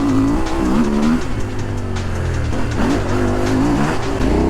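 A CFMOTO 800MT-X adventure motorcycle rides off-road with its rear tire digging in. The engine revs loudly and continuously with a wavering pitch as the wheel spins, all close up and without speech.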